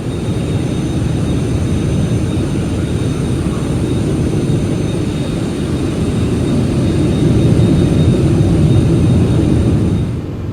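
Airbus A380 jet engines in Microsoft Flight Simulator give a steady, loud, low rumbling drone that swells slightly toward the end, with no speech over it.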